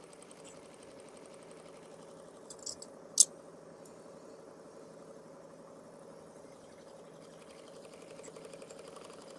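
A sewing machine stitches quilt block triangles with a low, steady motor hum and soft rapid ticking, broken by a couple of brief sharp clicks partway through.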